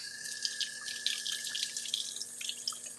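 Corn washed under a running kitchen tap: a steady close stream of water splashing into a sink, with scattered drips and light clatter, no voices.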